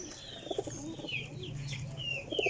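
A golden Teddy pigeon coos in soft, low bursts, with chirpy bird calls from other birds sounding nearby over a steady background hum.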